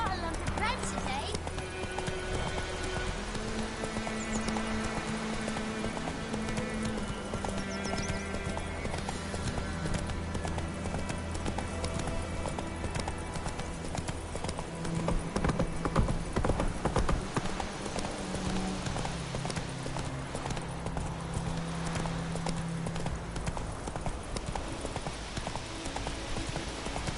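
Roach, the horse in The Witcher 3, gallops with a steady, rapid clip-clop of hooves throughout, close and clear under in-game music and occasional speech.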